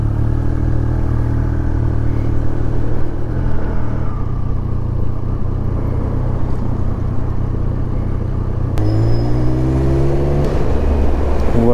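A 2023 Triumph Speed Triple 1200 RS ridden on the road, its 1200 triple engine droning steadily up close, with a gear change near the end followed by rising revs. No talking.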